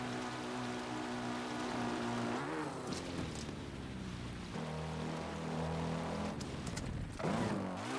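Rain falling in The Legend of Zelda: Breath of the Wild, a soft wash of hiss under a droning, shifting motor-like tone that drops out and returns, fairly quiet and with no voices.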